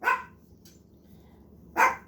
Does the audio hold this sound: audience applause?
no